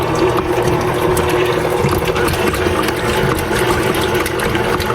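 A stand mixer churns homemade butter in water with the splash guard locked on, a steady, loud mechanical whir and sloshing that runs continuously without pause.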